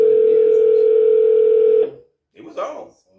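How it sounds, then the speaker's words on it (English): A telephone dial tone hums steadily and loudly for nearly two seconds, then cuts off into brief silence before a short burst of ringback or connection sound follows. "Let me see if he answered the phone."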